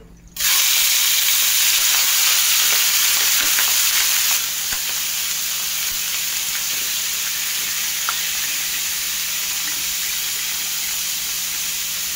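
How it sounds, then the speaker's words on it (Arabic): Liver drops into melted fat in a frying pan and erupts into a loud, steady sizzle with a hissing spray. The sound eases slightly partway through and keeps crackling continuously, with no talking. "نبدا ندوب هذه الشحمه ونجيبوا الكبده تاعنا ونحطوها في المقلاة"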